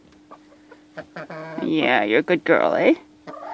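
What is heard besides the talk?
chickens clucking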